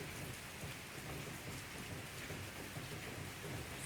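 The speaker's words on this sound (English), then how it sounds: "Can you hear the rain?" Steady rain falls outside a carport at night, a continuous dense hiss of drops on surfaces, even and unbroken throughout with no voices.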